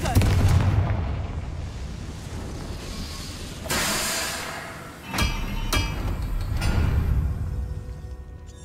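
A Confringo fire spell bursting in Hogwarts Legacy, a loud explosive blast followed by sharp cracking impacts and rumbling game effects, close and heavy against continuous background noise.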